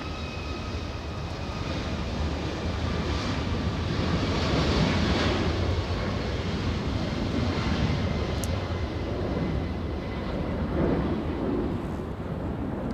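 A Southwest Boeing 737 MAX 8 airliner flies past at Los Angeles airport, a broad steady jet roar at a moderate distance that swells slightly and then holds.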